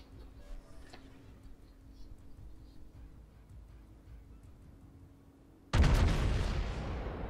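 Battleship guns fire in the naval video game World of Warships, a sudden heavy boom that rolls on with a long rumble after several seconds of quiet engine hum.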